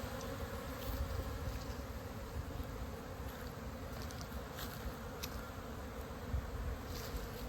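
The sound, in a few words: honeybees buzzing around hive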